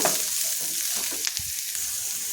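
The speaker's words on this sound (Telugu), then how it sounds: "మరి ఎక్కువ fry అవ్వక్కర్లేదండి just light pinkish colour వస్తే సరిపోతుంది" Chicken frying in a pan, a brief close, steady sizzle with a couple of faint stirring knocks, no voices.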